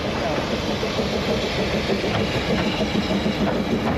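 A steam train rumbles and clatters close by at a heritage rail gathering in Derby, a steady, continuous wash of mechanical noise with rail clicks and engine drone throughout.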